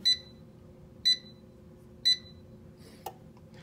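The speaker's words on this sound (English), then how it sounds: "What the metro button does is it'll beep for actually every second that you have set." Beseler enlarger timer in metro mode giving short, bright electronic beeps, one each second, three evenly spaced tones alone over a low steady hum, followed by a faint click.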